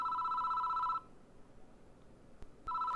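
A telephone rings in the horror game Spirit Hunter NG, a steady electronic trill that runs for a second, breaks into near silence with two faint clicks, then starts ringing again, with no one speaking.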